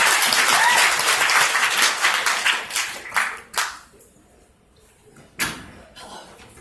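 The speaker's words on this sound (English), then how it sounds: "give her a round of applause" An audience at Liberty City Comic Con applauds as a guest comes up to the stage, loud clapping that thins out and trails off into scattered claps and a few sharp knocks.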